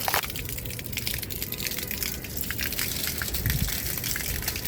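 Water sprays onto a rooftop to wet it down, a steady hissing gush with crackly splatter that runs continuously and fairly close.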